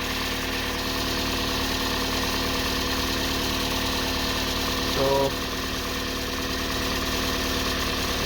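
A Toyota Yaris engine runs at a steady idle with an even drone and faint ticking. A brief tonal beep comes near the end, and a voice speaks a single word.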